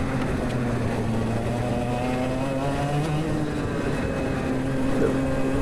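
A racing kart engine with a carbon-fouled spark plug strains to accelerate on track, a loud, continuous buzzing drone with a wavering, labored pitch that rises only slowly.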